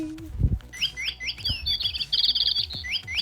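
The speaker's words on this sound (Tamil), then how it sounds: "குயில் கிடைக்கலஞ்ச கிளிச்சத்தம் தான் கேட்குது." A parrot calls outdoors in the early morning with a series of sharp, high chirps and squawks repeating in quick succession nearby, mixed with a few low knocks.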